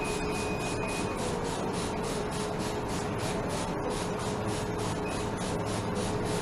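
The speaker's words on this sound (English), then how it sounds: "So I'm going to go ahead and spray down." Disinfectant sprays onto an animal cage in a steady hiss at moderate volume, with a faint rhythmic pulsing texture throughout and no voices.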